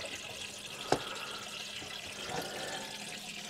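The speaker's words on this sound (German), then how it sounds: "Und jetzt wird auch der Duschkopf nochmal ordentlich gespült." Water runs steadily through a motorhome shower head being flushed during disinfection of the fresh-water system, a continuous close hiss and splash with one brief sharp knock near the start.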